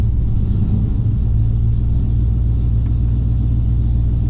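A Gen 3 engine runs with the throttle cracked slightly open, a loud, steady, close low rumble throughout with no clear rise in pitch.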